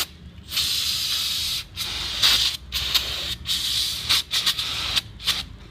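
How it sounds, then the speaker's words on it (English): Brake cleaner sprays onto the rear wheel hub of a 2005–2007 Toyota Camry in a series of close, loud hissing bursts of varying length separated by short pauses. "get yourself some brake cleaner and just spray down the whole areas"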